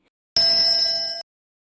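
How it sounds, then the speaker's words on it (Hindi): A single temple bell rings in a rural village, a clear metallic tone that sounds once and fades after under a second, then leaves silence. "दूर मंदिर की घंटियां बज रही थीं"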